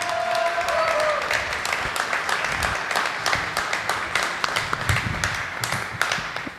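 Audience applause at an academic congress on Mexican political-electoral reform, a dense patter of many hands clapping steadily, with a brief tone at the start, slowly thinning toward the end.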